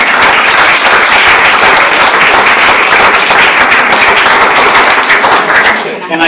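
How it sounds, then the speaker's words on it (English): A loud, sustained round of applause from the audience at a community meeting on snow management and removal, close, dense clapping that holds for about six seconds before tapering off abruptly, with some voices mixed in. "So let's give them a round of applause."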